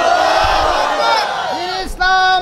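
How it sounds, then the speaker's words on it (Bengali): A large congregation at a Bengali Islamic sermon roars back in unison after a takbir call, a loud, sustained chant that fades briefly and then surges again near the end. "হাত তুলে জানিয়ে দাও তাকবীর"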